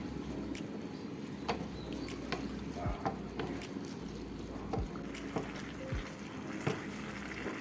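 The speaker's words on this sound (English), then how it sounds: "Then stir well." Honey chicken sauce is stirred in a pan, with a steady run of soft scraping strokes and occasional sharper knocks of the utensil against the pan under a low, continuous background.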